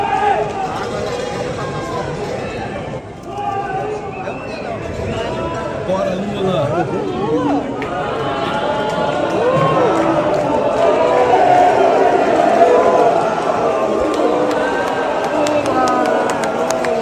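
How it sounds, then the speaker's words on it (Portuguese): A large crowd at a Lula event roars and jeers in a dense, sustained din that swells louder midway, with shouts and chant-like voices rising above the mass. "vamos ouvir um pouquinho a vaia"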